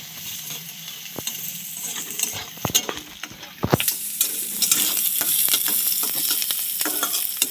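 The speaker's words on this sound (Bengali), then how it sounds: "পেঁয়াজটা একটু ফ্রাই করে নিচ্ছি।" Onions frying in a pan with garlic and whole chillies while egg curry is cooked, giving a steady close sizzle broken by a few sharp clinks and stirring scrapes. The frying grows denser and louder toward the end.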